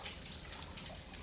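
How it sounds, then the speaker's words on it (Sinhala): Water seeps from holes below the Tissa tank, a soft, steady trickling wash that runs evenly and alone for a brief stretch. "මේක මෙතනින් වතුර එනවා."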